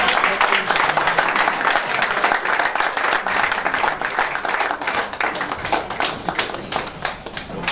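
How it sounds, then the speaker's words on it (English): Audience applause and clapping at an opening ceremony, a steady dense round of hands from a crowd lasting throughout, fairly close and loud. "clapping."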